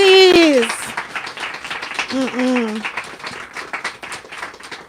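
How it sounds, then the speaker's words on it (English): An audience at a poetry reading claps and cheers under overlapping excited voices, with a high shriek at the start and another exclamation midway. "Everybody clap for Amy!"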